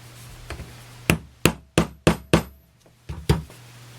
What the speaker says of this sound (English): And then we'll just tap this 1/4 inch dowel piece in there.